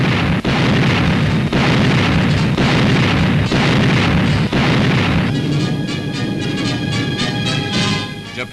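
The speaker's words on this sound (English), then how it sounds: "Here already, Ack-Ack gunners are in action." Anti-aircraft guns fire in a 1941 newsreel, a dense, loud run of booming blasts that follow one another about every second. A crackling, noisy texture takes over toward the end.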